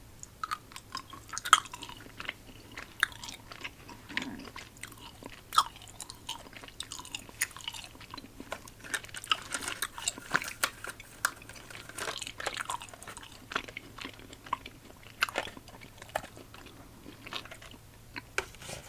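Sour watermelon candy, from a fall and Halloween themed assortment, is chewed up close: soft, wet mastication with irregular small bites and crunches scattered across a quiet background, and no talking.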